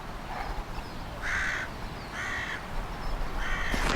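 A crow caws three harsh, evenly spaced times at middle distance over a steady outdoor noise bed, each call short and raspy, with no talking.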